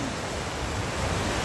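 Waterfall number 2 at Lake Sebu, South Cotabato, gives a steady, broad rushing roar that stays even and unbroken throughout, with no voices over it.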